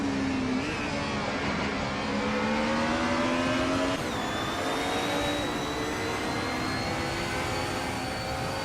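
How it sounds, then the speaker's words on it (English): 1994 Mercedes C180 DTM race car in a racing video game: a continuous high-revving engine drone with rising pitch and a gear change partway through, loud and steady with no talk. "The Retro DTM class with the DSC Roman Fs is starting on pole in a classic 1994 Mercedes C180 DTM."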